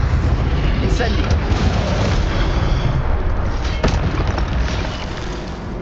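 Incendio fire spell blasts cast in Hogwarts Legacy, a loud continuous roar of rumbling fire and impacts with sharp bursts near the middle, fading slightly at the end.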